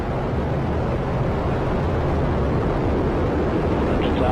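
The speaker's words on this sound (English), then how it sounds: "liftoff of the first United Launch Alliance Vulcan rocket, launching a new era in spaceflight to the moon and beyond" Vulcan Centaur rocket lifting off with solid rocket boosters, a loud, steady, broadband roar that fills the whole stretch without pause or voices.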